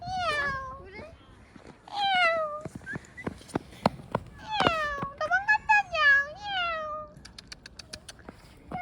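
A cat meows repeatedly in short, rising and falling cries, near and clear, mixed with scattered clicks and light tapping sounds.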